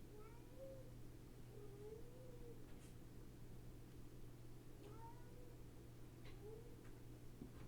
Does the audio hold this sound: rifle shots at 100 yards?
no